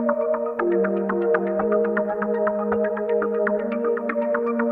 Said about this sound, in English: and then you can have that arpeggiated pattern as well